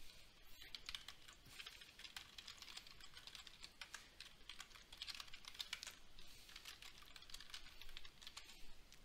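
Steady typing on a computer keyboard, dense rapid key clicks continuing throughout at a soft, even level with no talking.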